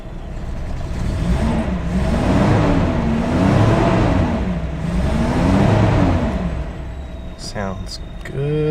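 A Toyota 2F engine idles steadily at about 650 rpm at night in Arizona, giving a loud, even low rumble with a slow wavering pulse that runs throughout, then briefly shifts near the end.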